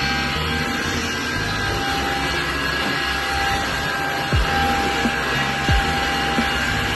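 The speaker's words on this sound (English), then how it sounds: "So in this vacuum, what you do is you can even take it off so it becomes a hand vac." Ryobi 18V ONE+ cordless stick vacuum running steadily with a constant whining motor drone throughout, a couple of brief low bumps near the end and no talking.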